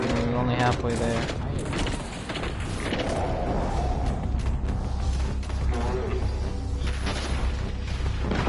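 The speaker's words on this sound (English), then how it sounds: "someone shot me while I was in midair" Rapid weapon fire and mechanical clatter from the video game Destiny fill the mix densely and loudly, with players talking over the constant shooting.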